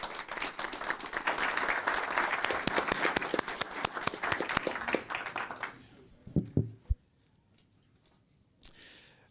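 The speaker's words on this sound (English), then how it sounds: "if we could please give him a big round of applause" At a city council meeting, the audience gives a hearty round of applause that lasts about six seconds, then breaks off abruptly, leaving a few thumps and faint voices in the quiet room.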